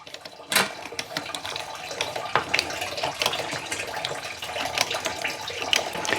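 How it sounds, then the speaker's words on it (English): Coolant sucked out of a car radiator reservoir with a short hose or pump, a steady close watery gurgle and slurp with bursts of louder sputtering throughout, no talk. "I'm gonna suck as much of this as I can out."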